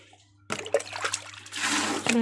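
Organic homegrown cherries go into water, making soft splashes and trickling after a quiet start, with low background hum and faint room noise.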